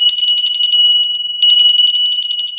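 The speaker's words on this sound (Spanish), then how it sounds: "adentro tenemos el badajo, que es lo que hace que la campana suene" A hand bell struck by its clapper rings in a rapid, bright, clattering peal, close and loud, pausing briefly before ringing on.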